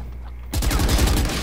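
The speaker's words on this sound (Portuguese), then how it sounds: "Tá muito tiro da frente." Gunfire erupts in a tactical shooter video game, a sudden loud burst of rapid overlapping shots cutting in after half a second of quieter ambience and continuing as dense rattling fire.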